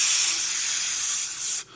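A voice imitates the hiss of an aerosol spray can, a steady bright hiss lasting well over a second before cutting off sharply, followed by a short fainter tail.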